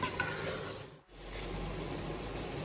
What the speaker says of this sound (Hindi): ये मसाला भी मिक्स हो रहा है मटन में, और इसे हम इस तरीके से फ्राई करते रहेंगे।